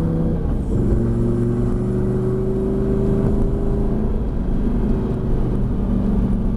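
A Lamborghini Gallardo's engine drones loud and steady on the Lédenon circuit, its pitch holding and slowly rising as the car accelerates, with no talk over the engine.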